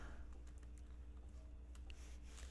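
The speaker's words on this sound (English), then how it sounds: "we're gonna type in flannel" Light typing on a computer keyboard makes faint, scattered key clicks in a quiet room, with a steady low hum underneath.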